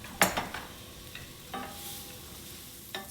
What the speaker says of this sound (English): We're going to cook that onion till it's nice and translucent before we add anything else in.